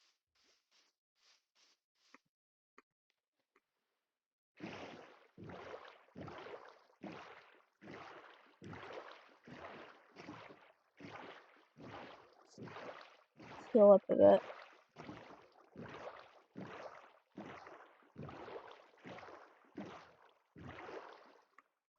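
Steady rhythmic paddle strokes of a small boat rowing across water in a Minecraft-style game, evenly spaced splashing swishes repeating for about twenty seconds, with a brief spoken line midway.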